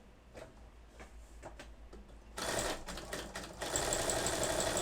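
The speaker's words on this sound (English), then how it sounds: "I'm going to just start, lower my presser foot, and just start stitching." A sewing machine runs steadily through free-motion calligraphy embroidery with the presser foot lowered. It makes a rapid, continuous mechanical ticking that grows noticeably louder partway through.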